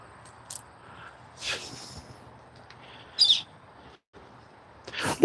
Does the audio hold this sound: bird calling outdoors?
yes